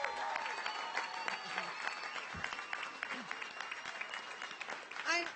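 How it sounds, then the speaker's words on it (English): A crowd applauds graduates at a ceremony, with continuous clapping and some crowd murmur spread across a large space, heard at moderate level. "Let's give one more round of applause to our graduates."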